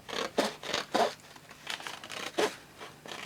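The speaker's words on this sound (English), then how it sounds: "I might roughen up the edges just with the side of my scissors." Paper edges roughened by scraping with the side of scissors for scrapbook cardmaking, close and quiet, a few short irregular rasping strokes with pauses between.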